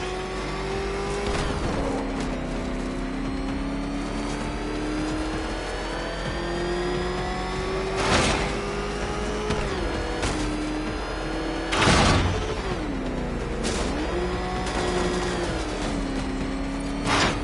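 Batmobile engine in the Batman: Arkham Knight video game, a continuous loud roar that rises and falls in pitch as it revs and shifts, with several sharp bursts of acceleration along the way and no one talking.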